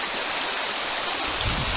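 Piney Creek flowing through the Mark Twain National Forest on a rainy day: a steady, close broadband rush of water over the creek bed, constant and fairly loud, with a slight low swell near the end and no talking.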